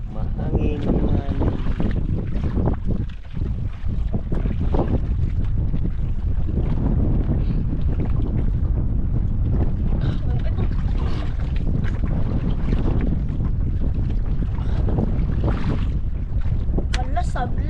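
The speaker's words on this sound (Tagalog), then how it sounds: "Mahangin naman." Wind blowing hard outdoors by the water, a continuous loud roar buffeting the microphone throughout, with a voice speaking briefly under it.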